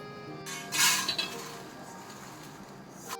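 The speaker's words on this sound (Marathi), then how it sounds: "पोहे चांगले कुरकुरीत झालेले आहेत ते आता आपण काढून घेऊया दुसऱ्या ताटात" Crispy roasted poha being scraped and shifted from a pan onto another plate, a bright clinking rasp of metal and dry flakes rising then settling into soft rustling, with a small clink at the end; no talking.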